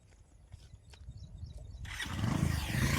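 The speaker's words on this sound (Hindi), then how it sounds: "बाइक नहीं चल रही है?" A motorcycle engine is started outdoors among trees: a faint rattling crank and light taps give way after about two seconds to a louder, rough engine roar that keeps building.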